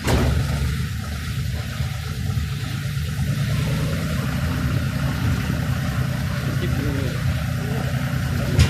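A tractor engine runs steadily at a low, rumbling mid pitch, close and constant throughout without clear revving, on a farm where bananas are being hauled.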